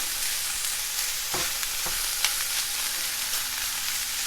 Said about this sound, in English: I'm just going to distribute the onion through the beef